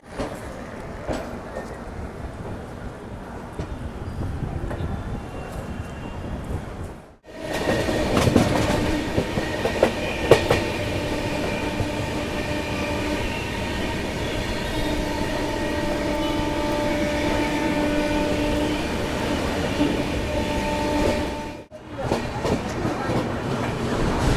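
Inside a 3rd AC coach of the Millennium Superfast Express, a moving train gives a steady rumble with clickety-clack of the wheels, broken by two brief dips, with faint background voices.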